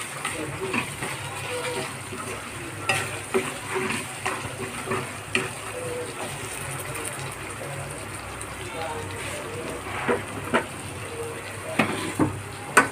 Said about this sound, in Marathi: हे तीळ पण थोडेसे असे परतून घ्यायचे.